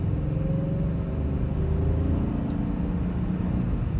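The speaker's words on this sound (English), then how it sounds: "I'm gonna give it throttle again here." A 2015 GMC Yukon SLT with a 5.3 liter V8 under throttle on the road, its low steady engine drone rising gently in pitch as it accelerates, heard close from inside the cabin.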